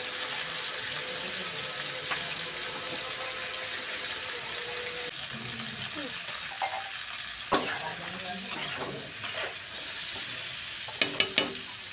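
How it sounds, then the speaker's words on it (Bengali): Pointed gourd (potol) fries in a pan with a continuous close sizzle, intermittent stirring clatter and a few sharp utensil knocks near the end, with no speech over it. "পটলগুলোকে ভাজা করে দিচ্ছি।"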